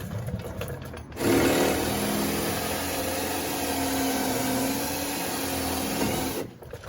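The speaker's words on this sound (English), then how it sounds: "Ideally you want to drill these straight on," A steady, loud motor whine of a power drill running continuously for about five seconds while repairing a Mercedes ML driver side window motor, starting abruptly and cutting off near the end.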